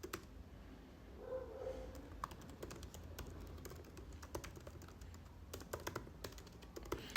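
Computer keyboard typing a text prompt for an AI image generator on a Mac, scattered crisp key taps building into quicker runs, close and quiet with no speech.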